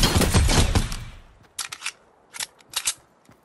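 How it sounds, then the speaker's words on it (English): Sniper gunfire in the Fortnite video game: a dense, loud burst of noise opens, followed by four short, sharp cracks spaced irregularly against near silence. "I'm getting sniped at."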